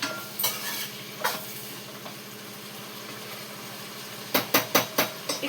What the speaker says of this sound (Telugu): ఈ పక్కన చిక్కుడుకాయ ఫ్రై చేస్తున్నా